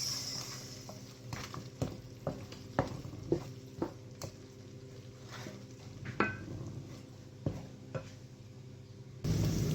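Sugar and tomato paste being stirred in a pot for an Arabic okra stew, with a low sizzle underneath and repeated clinks and scrapes of a spoon against the pot, close by.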